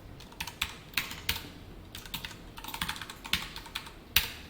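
Code is typed on a computer keyboard during a Java programming session, with quick clusters of close, crisp key clicks and short pauses between bursts and one sharper keystroke near the end, with no speech.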